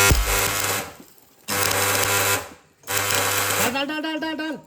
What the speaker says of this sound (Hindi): हल्की हल्की वेल्डिंग कर देते हैं।